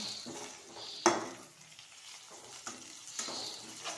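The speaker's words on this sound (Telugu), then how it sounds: "అదే బ్యాండీలో కొంచెం ఆయిల్ పోసుకొని దాంట్లో ముందుగా కడిగి శుభ్రపరిచి ఆరబెట్టిన మునగాకుని వేసుకున్నాం" Washed, dried moringa leaves fry in a little oil in a pan, giving a soft steady sizzle broken by scraping stirs and a sharp clink of a utensil against the pan.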